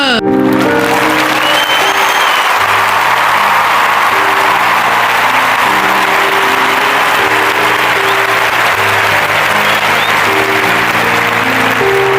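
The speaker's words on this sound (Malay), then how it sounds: "Berikan tepukan kepada mereka berdua." Applause for the King and Queen announced at a graduation night, continuous crowd clapping under loud sustained music with a repeating melody, dense and unbroken from start to finish.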